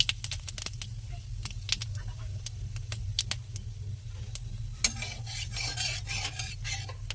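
Panch phoron spices go into a hot pan for a cauliflower paratha filling: scattered clicks and scraping stir strokes over a steady low hum, then a louder, hissing sizzle swells about two-thirds through.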